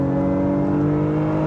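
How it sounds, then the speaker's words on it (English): A 2023 Honda Pilot Trailsport engine held at a steady revving hum with strong tonal harmonics, loud and close, continuous through the short moment with no speech. "It actually is a pretty cool engine sound"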